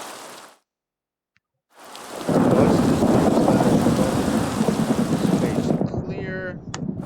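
Heavy rain and a thunder rumble in the Minecraft video game, a loud steady downpour that bursts in after a brief silence and roars on, with a short speech fragment near the end.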